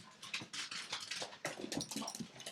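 A dog indoors whimpers and whines in short, uneven bursts, with some pattering, fairly faint and close, with no talk during it.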